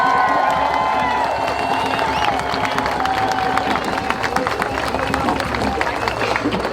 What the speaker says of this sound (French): Un autre applaudissement pour Sarah Choujounian